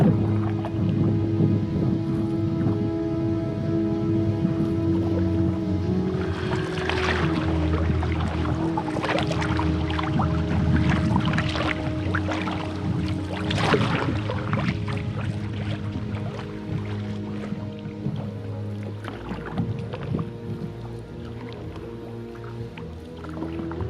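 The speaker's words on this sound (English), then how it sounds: "we have been paddling" A canoe is paddled across open Arctic water in the barren grounds, with repeated soft splashes, drips and wet strokes against a steady low background of water and wind.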